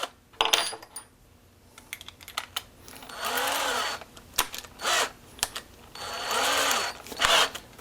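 Power drill countersinking a screw hole in a kitchen cabinet, two sustained whirring bursts of a few seconds each with scattered clicks and handling taps between them, close and fairly loud, no talking.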